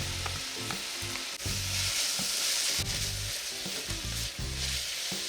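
Minced garlic, four to five cloves, sizzles loudly in a frying pan with repeated stirring scrapes for an Italian-style lasagna, a steady close frying hiss throughout with no voices.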